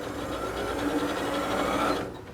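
Janome Skyline S5 sewing machine running a zigzag stitch, a steady fast mechanical whirr with a rapid needle rhythm, close and fairly loud, stopping abruptly near the end.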